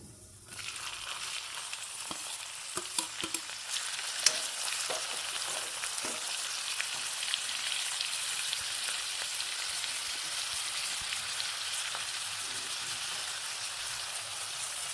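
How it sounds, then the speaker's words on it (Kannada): Chopped onions fry in hot oil with cloves, cinnamon and cumin, giving a steady, bright sizzle with a few soft stirring clicks near the start and no talking. "ಈರುಳ್ಳಿ ಫ್ರೈ ಆಗ್ತಾ ಇರುತ್ತೆ"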